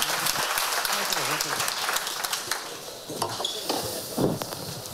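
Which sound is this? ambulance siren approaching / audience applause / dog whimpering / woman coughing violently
audience applause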